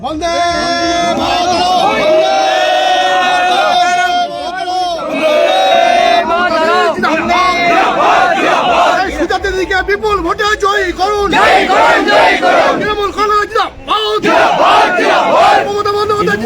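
A large crowd at a Trinamool Congress political rally in Sonamukhi, West Bengal chants slogans loudly in rhythmic unison, voices swelling and overlapping for the full stretch, with shouting leaders mixed in.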